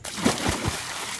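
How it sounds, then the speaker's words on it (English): A person jumps into the water of an outdoor pool at a pool club, making a short, close sloshing splash that settles quickly into faint ripples. "I'm going to jump in for practice because I need to get used to the water."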